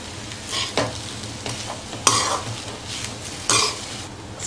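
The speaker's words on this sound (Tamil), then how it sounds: "முட்டை நல்லா வெந்துடுச்சு, இப்போ சாதம் போட்டு நல்லா கலந்துக்கலாம்." A spatula stirs and scrapes rice into cooked egg in a hot pan for Tamil-style egg rice, with soft sizzling and several distinct scraping strokes at a moderate level.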